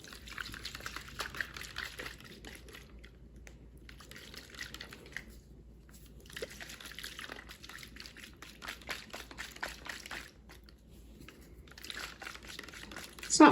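Oat milk poured and blended into an Atholl Brose mixture, giving soft liquid splashing and whirring bursts in several stretches with crinkly, dripping texture, fairly faint and with no talk.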